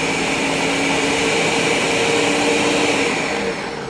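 A blender pulses onions, garlic and chicken broth for a green chilli dish, a loud continuous close motor whir that holds steady before easing slightly at the end.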